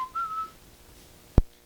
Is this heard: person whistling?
yes